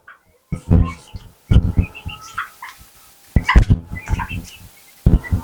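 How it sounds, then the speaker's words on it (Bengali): Young turkeys about a month old, kept in a large cage, give short bursts of harsh, clucking calls in close, irregular clusters separated by brief quiet gaps. "দেখেন অল্প জায়গাতে খাঁচার মধ্যে টার্কি মুরগি পালন করা যায়।"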